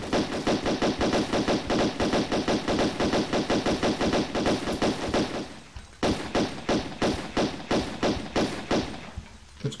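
Rapid automatic gunfire from a Tomb Raider multiplayer level (an Alien: Resurrection fan level), loud, steady bursts of evenly spaced shots for about six seconds, a brief gap, then a further run of shots that thins out toward the end.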